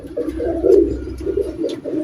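Pigeons of a Teddy breed cooing up close, with a low, rolling coo repeated in soft pulses and no other sound behind it.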